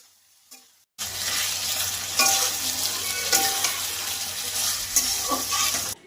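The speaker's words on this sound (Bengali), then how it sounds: "এরপর ভাজা সয়াবিনগুলোকে কড়াইয়ের মধ্যে দিয়ে ভালো করে নেড়ে নিতে হবে।" Fried soybeans stirred in a hot wok (kadai) for chilli soybean: loud, steady sizzling starts abruptly and carries on, with scraping spoon strokes and clinks against the pan at irregular intervals.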